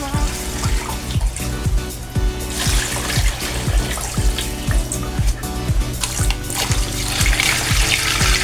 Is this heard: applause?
no